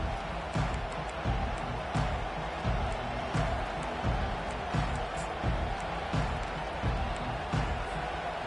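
A college football stadium crowd at an Alabama home game roars continuously, a dense, steady wall of cheering with rhythmic bursts, like clapping or stomping, pulsing roughly every second throughout.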